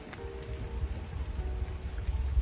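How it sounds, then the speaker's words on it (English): Soft, steady patter of rain falling in woods with a low rumbling background, continuous and fairly close, no voices. "It'll be just the rain anyway."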